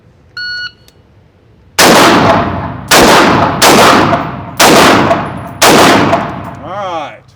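Five loud, sharp carbine gunshots at a shooting drill, fired in an uneven rhythm with short gaps, each with a brief ringing decay, preceded by a short beep from a shot timer.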